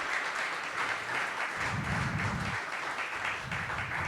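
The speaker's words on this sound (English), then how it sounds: "If you could give James a round of applause, please." Audience applause at a live sales talk-show taping, a steady wash of clapping lasting several seconds with no speech over it.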